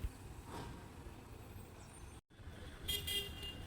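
KSRTC bus pulling into Savanur bus stand amid busy traffic, a moderate engine drone with short horn toots near the end, no talk.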